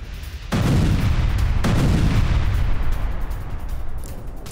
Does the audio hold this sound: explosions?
yes